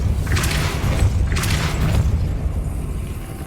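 Depulso spell cast in the video game Hogwarts Legacy, two heavy booming bursts a second apart over a steady low rumble of game background, no talk.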